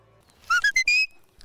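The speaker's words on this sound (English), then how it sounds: "A sharp whistle and Misty the sheepdog obeys." Four sharp, rising whistle blasts command a working sheepdog, each short and piercing, the last held longest, standing out clearly against a quiet outdoor background.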